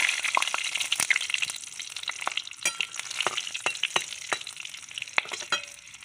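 Bay leaf, green chilli and spices frying in hot oil, a steady close sizzle broken by sharp crackles and pops as the pieces hit the pan.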